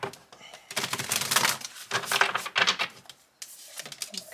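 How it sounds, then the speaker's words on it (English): A deck of tarot cards is shuffled up close in rapid riffling bursts of crisp, papery flutters, with brief pauses between passes. "let's give this a good shuffle"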